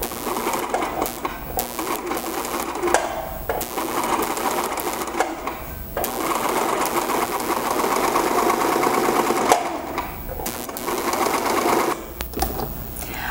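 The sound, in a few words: sewing machine stitching with elastic thread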